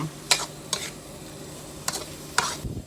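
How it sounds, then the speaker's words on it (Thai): Shrimp and beans stir-fried with curry paste, the pan hissing steadily while four sharp spatula scrapes land at uneven intervals, alone with no talking. "ผัดให้เข้ากันนะฮะกุ้งถั่วนะฮะกุ้งถั่วแล้วก็พริกแกง"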